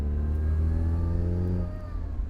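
Mazda MX-5 with a six-speed gearbox cruising in sunshine, a steady mid-pitched engine drone heard from onboard, rising slightly in revs then easing off, no talk.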